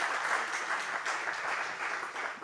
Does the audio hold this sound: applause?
yes